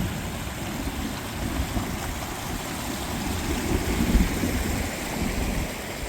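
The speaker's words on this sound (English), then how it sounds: "So let's get this water flowing." Water runs through a backyard pond filter system, trickling over granite gravel: a steady, close rushing and gurgling flow with a low rumble, swelling slightly in the middle, with no voices.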